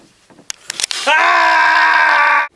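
A person lets out a loud, piercing scream that holds steady for about a second and a half and then breaks off sharply. A few quick knocks and rustles come just before it.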